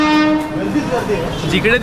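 A long, loud train horn sounds at Prayagraj railway station, a sustained blast that fades slightly over two seconds amid busy platform noise and nearby voices.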